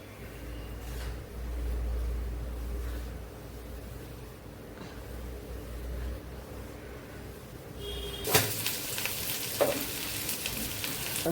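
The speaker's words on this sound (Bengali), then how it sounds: "এর মধ্যে আলু পটলগুলো ভেজে নেব।" Potatoes and pointed gourd sizzle steadily in an iron wok, a soft continuous frying hiss, followed near the end by a sharper clatter of stirring.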